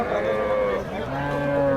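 A cow moos loudly nearby at the Dabwali cattle market, one long drawn-out low call with a shifting pitch, over faint background murmur.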